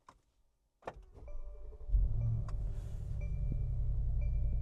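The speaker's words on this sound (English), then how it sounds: "let's go ahead and give you a cold start." A Mercedes G63 AMG cranks and fires on a cold start after a brief click and chime, then holds a steady, deep idle rumble that grows slightly louder, heard up close with no talking.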